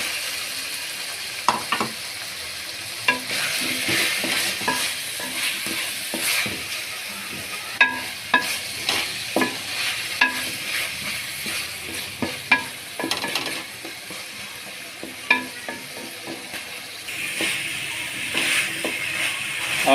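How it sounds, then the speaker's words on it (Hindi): Potatoes and minced meat (keema) frying in a pan, a steady sizzle punctuated by repeated sharp clacks and scrapes of a spoon stirring against the pan, close and without talk. "आलू की भी आपने अच्छे तरीके से भुनाई करनी है"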